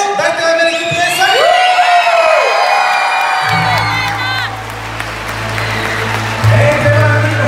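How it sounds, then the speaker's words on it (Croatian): Audience at a live music show breaks into applause and cheering, loud crowd noise under singing and instruments that fade while a low sustained tone enters. "Navijam za Elenu, dajte vam veliki pljesak!"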